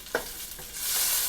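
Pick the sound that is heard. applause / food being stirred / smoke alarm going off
food being stirred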